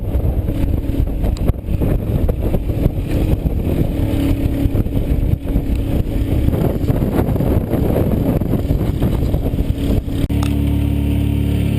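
Boat motor at full throttle pushing straight into the wind in Tarpon Bay, a loud steady rumbling drone with heavy wind buffeting the microphone, easing slightly near the end.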